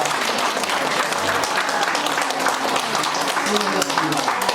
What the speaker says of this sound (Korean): 우리 서로를 바라보면서 수고했다라고 박수 한번 쳐주십시다.